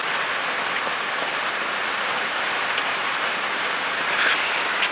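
Rain falling during an early-morning safari drive, a steady, even hiss of drops with no breaks, fairly loud and close, with only a slight swell near the end.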